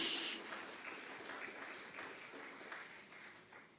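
Church congregation applauding during an evening worship celebration, a fairly faint, steady wash of clapping that starts a little stronger and gradually fades, with no speech over it.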